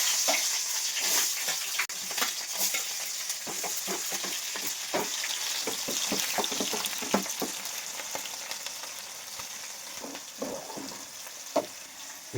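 Onions frying in a couple of spoonfuls of oil, a steady dense sizzle with frequent crackling pops and scraping stirs throughout, close and fairly loud, gradually easing slightly toward the end.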